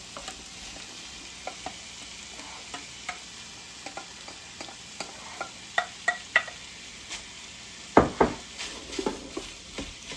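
Onions and peppers sizzle in a pan with pork, a steady frying hiss under repeated scrapes and clinks of a utensil stirring, growing louder with a sharp knock near the end.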